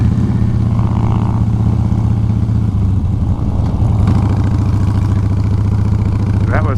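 Several motorcycles on a Harley Owners Group chapter group ride rumble steadily at close range, a continuous low engine drone with some clatter and shifting throttle throughout.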